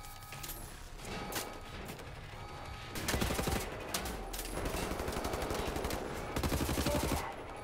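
Rapid machine-gun bursts ring out in the video game Wolfenstein: The New Order, loud, close and repeated, separated by short gaps with mechanical clicks between volleys.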